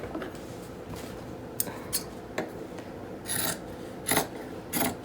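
Scissors trim excess from plaid flannel fabric with scattered crisp snips and soft rasping rubs close by, over a low steady room hum.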